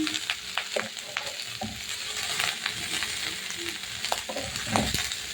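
Broccoli sizzles steadily in a pan with a cumin tempering while a utensil stirs it, giving repeated scraping knocks over a constant loud frying hiss.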